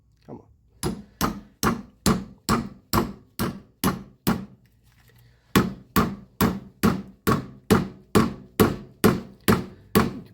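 A hammer pounds repeatedly on a rebuilt C4 Corvette control arm during installation, loud close metallic blows at a steady rhythm, a brief pause, then another long even run of strikes.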